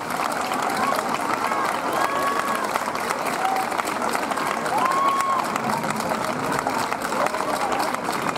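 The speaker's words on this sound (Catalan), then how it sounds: "Aplaudiment per als músics." Crowd applause for folk musicians at an outdoor folklore festival in La Ràpita, Spain: a loud, continuous wash of clapping and crowd noise, with voices and some whistle-like tones mixed in.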